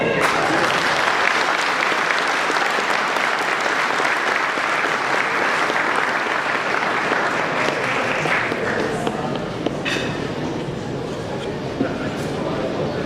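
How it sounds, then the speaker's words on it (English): Loud, sustained applause from a banquet crowd at a Cadillac and LaSalle club automobile awards dinner, a thick roar of clapping that thins slightly near the end, with a few sharper claps standing out. "You may applaud."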